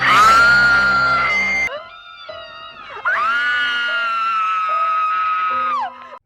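A woman screams in the 1978 horror film Halloween: a loud, sustained, piercing cry, then a brief quieter stretch, then a second long scream that ends abruptly.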